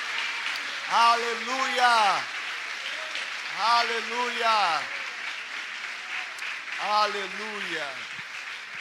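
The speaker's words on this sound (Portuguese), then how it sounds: "Será que você pode aplaudir o Senhor Jesus nessa hora?" A church congregation at a Baptist service claps steadily while a voice sings or chants through the applause in three repeated phrases.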